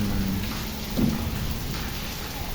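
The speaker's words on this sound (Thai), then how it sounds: "ขนาดฝนตกเยอะเลยนะครับ ไม่ใช่น้อย ๆ" Heavy rain pours down as a steady, loud, dense hiss, with a low rumble beneath it that could be distant thunder.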